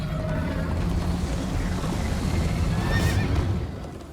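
A horse whinnies during a ride in Minecraft Story Mode, set against a steady, busy game soundscape with hoof clatter and continuous background noise.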